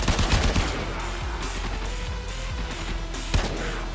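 Warframe weapon gunfire rattles out in rapid, loud bursts of repeated shots, dense and continuous with a few heavier cracks, and no talking over it.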